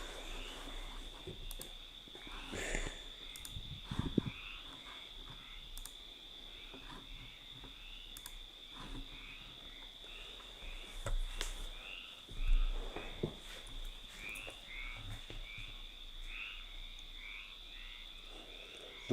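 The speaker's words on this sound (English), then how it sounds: "You guys hear the crickets?" Crickets chirp at night in a continuous high, steady trill, faint and distant, with scattered croaks and clicks over a quiet background.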